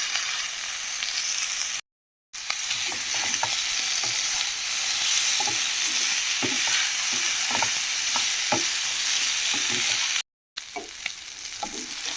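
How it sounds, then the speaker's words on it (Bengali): Taro flowers fry with potatoes in a pan, giving a steady loud sizzle while a utensil stirs and scrapes in frequent irregular taps and knocks, broken by two brief silences. "এটা ভাজা ভাজা করে নিতে হবে"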